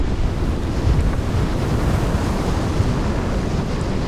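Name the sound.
strong wind and ocean waves at sea in a storm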